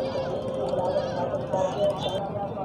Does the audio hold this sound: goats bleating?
yes